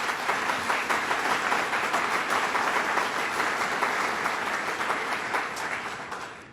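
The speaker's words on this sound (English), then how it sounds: "and they deserve a round of applause" A crowd at a gubernatorial business announcement in Western New York gives a round of applause, sustained dense clapping from many people that holds steady and then gradually fades toward the end.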